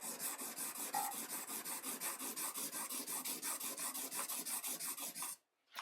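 A small knife is rubbed on sharpening stones in brisk, even back-and-forth strokes, roughly four per second, close and clear, stopping briefly near the end.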